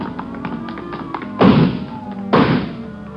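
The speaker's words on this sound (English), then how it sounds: "he broke through the garage doors" A radio drama sound effect of garage doors being broken through: light tapping and knocking, then two heavy crashing thuds about a second apart, loud and close.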